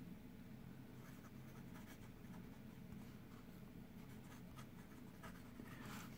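Lamy Safari fountain pen nib writing on paper, a faint, steady, slightly scratchy scraping of strokes, close and quiet with light hiss behind it.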